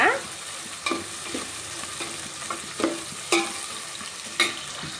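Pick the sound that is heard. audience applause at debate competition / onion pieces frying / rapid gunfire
onion pieces frying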